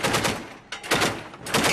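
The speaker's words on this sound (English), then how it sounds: "the gunners on the armoured personnel carrier that we're travelling in are shooting in the direction of the bushes all around" Machine gun fire from gunners aboard an armoured personnel carrier, shooting toward bushes during an ambush in Somalia: dense, loud bursts of rapid shots, a brief pause, then more sustained close-range firing.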